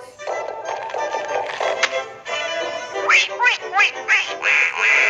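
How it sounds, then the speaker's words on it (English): Baby ducklings in a Tom and Jerry cartoon give a run of bright, rapid quacks and peeps, loud and close, following a brief musical or tapping passage. "There's a baby duckling and there's two baby ducklings."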